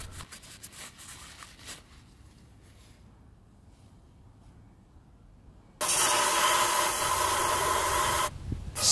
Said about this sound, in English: Spray some in the ports too.